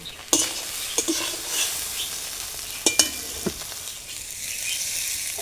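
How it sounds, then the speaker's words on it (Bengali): Taro stolons fry in a pan of hot oil, sizzling steadily with sharp clinks and scrapes of stirring at irregular moments, close and alone. "আমি একটু এমনি তেলে ভেজে দিব কচুর লতিটা"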